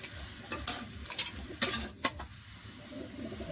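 Raw green mango being mixed with sugar in a pan, a soft scraping stir with a few sharp clinks and rustles near 0.5, 1.6 and 2 seconds over a low background hiss.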